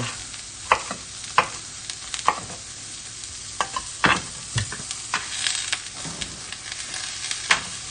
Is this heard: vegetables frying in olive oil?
yes